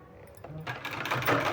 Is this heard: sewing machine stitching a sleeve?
yes